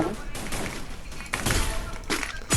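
Rapid bursts of gunfire crackle through a Free Fire video game tournament match, loud and repeated in clusters, with voices talking over the shooting.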